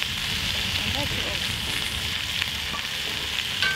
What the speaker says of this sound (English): So the meat's been browning and the onions for about five